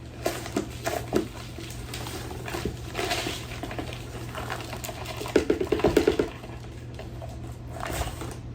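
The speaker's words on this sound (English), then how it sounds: "Oh, it's raining." Rain falls steadily in a dense, crackling patter, with a few sharper ticks and taps in the middle and no voices.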